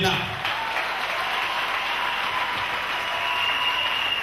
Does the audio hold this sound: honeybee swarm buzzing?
no